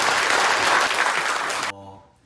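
A church congregation claps loudly to welcome a visiting pastor, dense steady applause that cuts off abruptly near the end, leaving a brief faint tail.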